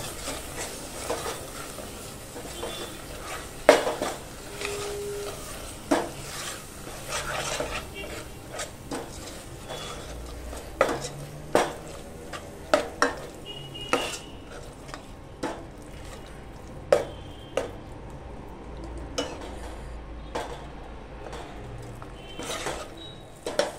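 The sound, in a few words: frying and stirring ground masala paste in oil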